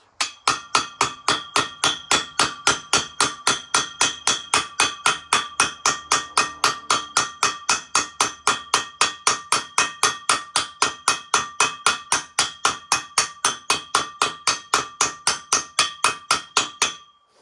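A hammer taps universal-joint caps into the driveshaft of a Volvo 240, dozens of evenly spaced metallic strikes in a fast steady rhythm, close and loud, with no voices.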